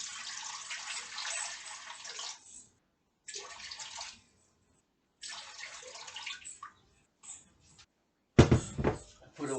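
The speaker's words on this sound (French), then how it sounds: "First, I'm gonna put the water," Filtered water poured into a cooking pot in a home kitchen, splashing and rushing in several separate bursts with short silent gaps, ending in a louder clatter near the end.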